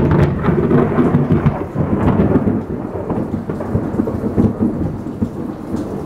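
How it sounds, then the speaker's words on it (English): Thunder rolls and rumbles loudly through a rainstorm, with a heavy wash of rain beneath, sustained and close for several seconds with no voices. "And that was a big bolt of thunder."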